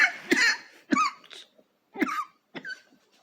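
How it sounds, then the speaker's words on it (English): A man hiccups several times in a row, each one a short, sharp gulping catch close to the microphone, spaced unevenly with quiet gaps between. "Having a bit of hiccups."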